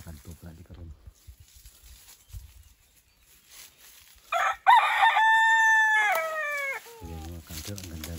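A rooster crows loudly and close by, a long drawn-out call lasting a couple of seconds, with a quieter voice talking before it.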